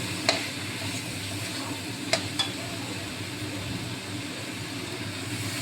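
Kabuli chickpeas being stirred in a pan over a low, steady sizzle, with a few sharp utensil clinks against the metal near the start and middle, heard up close.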